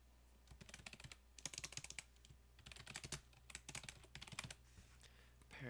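Keys on a computer keyboard are tapped in rapid uneven bursts with short gaps, faint and close, over a low steady hum.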